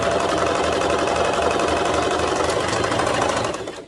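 A sewing machine runs steadily and loudly, stitching a pants cuff with a quarter-inch seam allowance; a dense mechanical whir holds for almost four seconds and then starts to fade at the very end.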